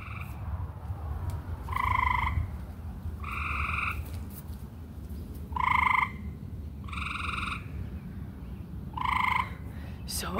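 Frogs croaking outdoors at night, several loud evenly spaced croaks, each lasting about half a second and coming roughly every one to two seconds, over a low steady background hum.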